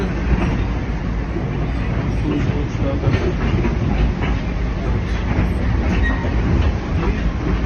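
An electric commuter train with stainless steel cars rumbles steadily in New York, with a broad, continuous roar and faint rhythmic clatter, heard from nearby, loud and unbroken throughout.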